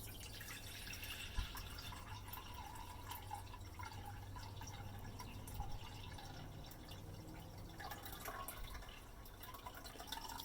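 Ochre pigment suspension in water poured steadily from a container, a continuous close trickle and splash with faint drips and no talking.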